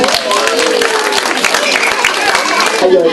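An audience at a Christmas show applauds a woman being welcomed, with close, busy clapping mixed with voices and cheering from the crowd throughout.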